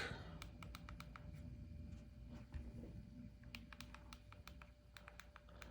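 Keys clicking on the keyboard of a Supcase Unicorn Beetle Pro case for a 13-inch iPad Pro M4, sharp close taps in quick bursts and short runs over a steady low hum.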